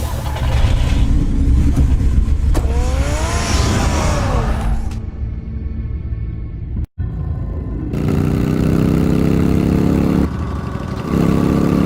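Car engine driving in Batman: The Telltale Series, a loud rumbling drive with a rising rev partway through, then a near-silent gap and a brief dropout before the engine returns at a steady pitch.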